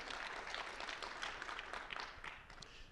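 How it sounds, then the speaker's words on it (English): Audience applause for customers who have joined the presenters on stage at a tech conference session, a steady broadband patter of many hands sustained for a few seconds, moderately distant and slightly fading at the end. "Please give them a round of applause."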